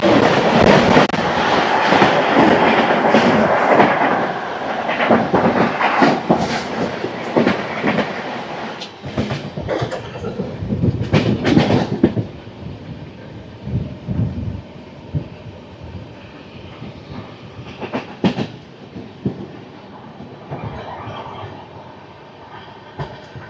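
The Yesvantpur–Delhi Sarai Rohilla Duronto Express, train 12213, speeds through Raichur Junction without stopping, with loud rolling rumble and rhythmic wheel clatter close by that gradually fade into scattered clanks as the train moves off.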